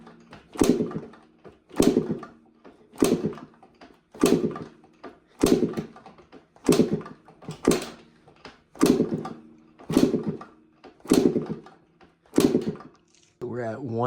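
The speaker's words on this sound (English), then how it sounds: "So we're gonna kick this thing over at wide open throttle." A 2023 Yamaha YZ125 two-stroke being kick-started at wide open throttle for a compression test. About ten evenly spaced, close kicks crank the engine without it catching, each a sharp mechanical burst fading before the next.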